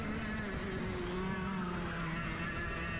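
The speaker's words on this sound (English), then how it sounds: "he's got the stronger engine, just able to drive away from me" 100cc racing kart engines scream during the DKC final race, a steady, buzzing high-revving drone with shifting pitch heard close and alone.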